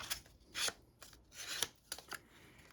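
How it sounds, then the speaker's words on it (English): Paper being folded into a hinge for a handmade file folder folio, giving a few quick crisp creasing and rustling bursts close up, with no talking. "so fold it up, make the hinge"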